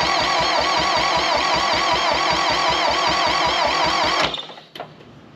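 A 1960 John Deere 1010 backhoe engine being cranked with carb cleaner, loud and close, a steady rapid chugging rhythm that runs for about four seconds before cutting off into a brief clank and quiet.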